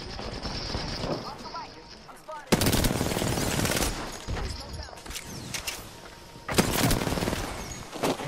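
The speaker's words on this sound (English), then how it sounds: "There's gunfire up here, dude." Automatic gunfire in the video game Apex Legends comes in loud, dense bursts with mechanical clatter between them, and players talk during the shooting.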